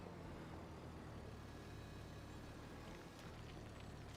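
Low, steady engine drone of a tractor straining under a heavy load in Farming Simulator 25, continuous and faint with a rumbling low end throughout.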